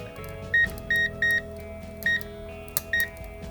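An infrared thermometer sounds its high-temperature alarm while measuring hot charcoal, giving a series of short, sharp electronic beeps in irregular pairs over a quiet background hum.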